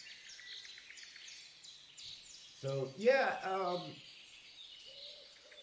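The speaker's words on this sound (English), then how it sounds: "Can you hear the birds chirping?" Faint birds chirp in repeated high tweets in the background, while someone speaks briefly in the middle.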